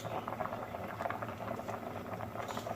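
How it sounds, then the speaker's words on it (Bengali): Rice and lentil khichuri simmers in a pot, a faint, continuous bubbling patter with small pops close by. "চাল ডাল অনেকটাই সেদ্ধ হয়ে গেছে"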